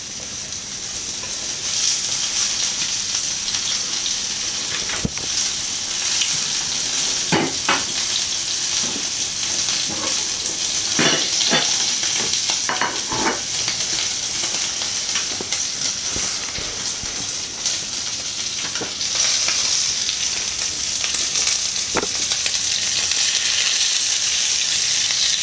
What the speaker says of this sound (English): We're just trying to get a nice sear on the outside.